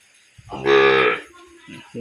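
A calf lets out a single loud, drawn-out moo close by, followed by a couple of soft thuds.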